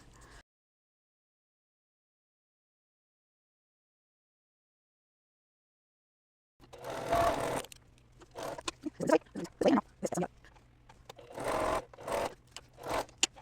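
A sewing machine stitching quilt rows together starts after a long silence, then runs in short, close bursts of rapid stitching separated by brief pauses.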